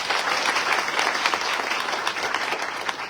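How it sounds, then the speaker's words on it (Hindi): An audience at an IMC business meeting gives loud, sustained applause, a dense, even patter of many hands clapping close by with no talk over it. "जोरदार तालियां"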